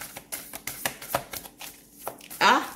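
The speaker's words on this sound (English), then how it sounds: "We're shuffling though." A deck of tarot cards is shuffled nearby in a quick series of crisp riffling slaps and flicks, ending in a louder burst. A voice can be heard around them.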